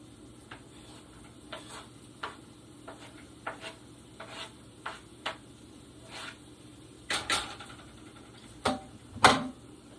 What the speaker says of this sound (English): I'm going to put the celery in.